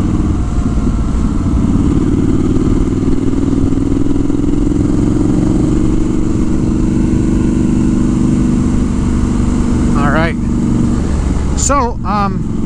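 A Triumph Scrambler 1200 XE motorcycle being ridden, its engine a steady mid-pitched drone under rushing wind noise throughout, with brief chirpy sounds near the end.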